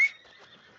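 A horse gives a brief whinny at a stable in the Red Dead Redemption 2 video game, a short faint neigh that fades quickly.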